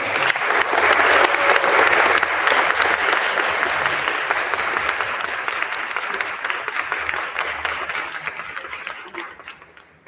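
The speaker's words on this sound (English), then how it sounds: "Let us please give a round of applause to our candidates." Audience applause for mayoral candidates at a 2023 Memphis mayoral candidate forum, a dense steady clapping that swells loud at first and then slowly thins and fades over about ten seconds.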